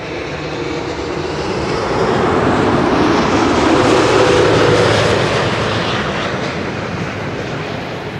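An airliner landing on runway 06 at Amsterdam Schiphol rumbles past as a broad, steady jet roar that swells to a peak mid-way and slowly eases, heard from a distance with no voices.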